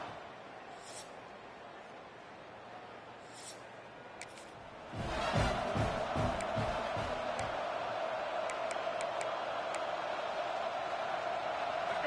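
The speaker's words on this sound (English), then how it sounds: "This crowd ready to make its presence known." Stadium crowd roar from a college football video game, a road game at Tennessee, swelling suddenly after a quieter start into a loud, sustained wall of crowd noise with a commentator speaking over it.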